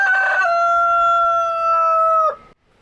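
A backyard rooster crows once, a loud close cock-a-doodle-doo with a sustained harmonic call that breaks off sharply at the end, no other sounds around it.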